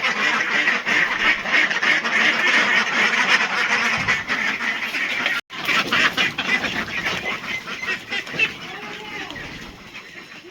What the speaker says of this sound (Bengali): ওই সাইডের রুমে খাকি ক্যাম্বেল হাঁসগুলো আছে